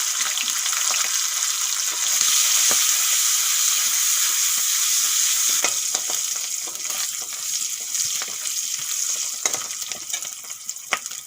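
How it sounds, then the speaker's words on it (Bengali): Fish oil sizzles steadily in a pan, seasoned with salt and turmeric, with a dense high hiss and occasional sharp crackles and spatters, close and continuous with no talking. "তেলগুলো একটুক্ষণ ভেজে নিয়েছি"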